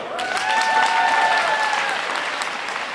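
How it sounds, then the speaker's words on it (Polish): Audience applause fills a hall after remarks reflecting on World Youth Day in Kraków, with steady dense clapping and a few voices calling out over it for about three seconds. "Tu powinny być brawa."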